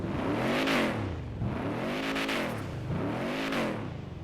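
A car with a 5-litre Coyote V8 in GTA 5 revs repeatedly in smooth swells, its engine pitch climbing and falling about three times, loud and close with no talk.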